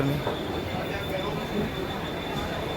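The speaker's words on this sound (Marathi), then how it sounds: "ट्रेन लागलेली आहे कसारा." A Kasara-bound local train at Dadar station in Mumbai makes a steady, loud rumble of rolling wagons and a faint high whine, with people talking over it throughout.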